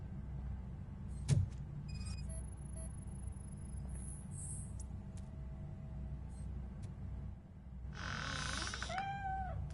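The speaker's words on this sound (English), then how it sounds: "The cat is fine. You can take it back to its owner." A cat in the Robocop: Rogue City video game gives a single meow-like call near the end, heard over a steady low ambient rumble with scattered soft game sounds and no talking.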